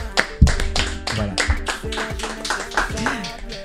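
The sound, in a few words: audience applause welcoming a guest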